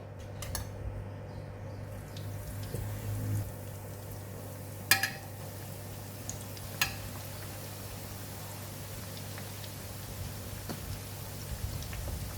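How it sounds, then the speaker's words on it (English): Flour-coated pork ribs frying in hot oil, a quiet steady sizzle under a low hum, broken by a few sharp clinks of utensils against the pan; no one speaks. "the meat is already coated with flour, so we can go and fry it"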